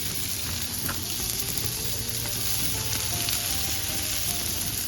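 Smash burgers topped with cheese sizzle on a hot grill, a steady dense crackle and hiss that holds even and close throughout with no voices.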